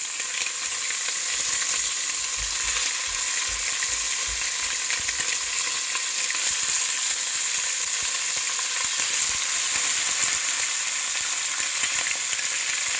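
Chicken pieces fry skin side down in a hot pan, giving a loud, continuous, hissing sizzle with faint crackles and no one talking.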